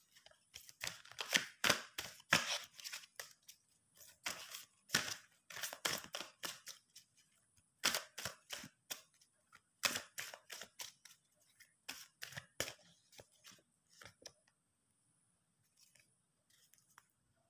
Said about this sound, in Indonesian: kita akan menshuffle beberapa kartu untuk zodiak Libra 2021